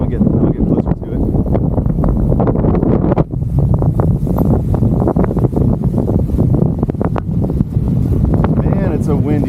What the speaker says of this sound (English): Man, it's a windy one today.